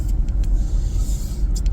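A small car drives past close by on the road, a steady loud rumble and tire hiss lasting the whole moment with no talking.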